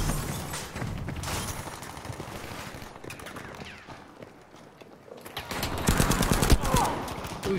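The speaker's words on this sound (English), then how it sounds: "Who's shooting there?" Gunfire in the shooter game Battlefield V, repeated rapid bursts of shots and impacts, loud near the start and again at the end, with a player talking over them.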